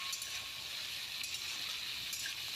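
Nigella seeds sizzle in hilsa fish oil in a pan with pumpkin, giving off a quiet, steady hiss throughout, close by, with faint occasional clinks and no talking.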